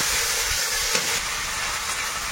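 Softened onion with whole cumin and spice masala frying in a pan, giving a continuous loud sizzling hiss with one brief stir, close up, without speech.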